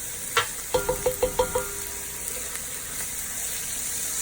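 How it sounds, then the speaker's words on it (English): Oxtail curry paste sizzles in a pot under a steady hiss while a spoon knocks the pot six times in quick even succession, followed by softer occasional scrapes, close and clear. "We're going to cook the paste until it gets a little dark."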